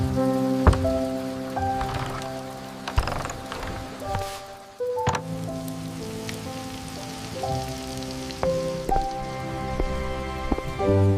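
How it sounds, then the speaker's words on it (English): Gentle rain falls steadily on a rainy day near a garden path, a soft continuous patter with scattered drops, heard alongside sustained tonal sounds. "Back inside from the gentle rain, I carefully placed my wet slippers on the mat"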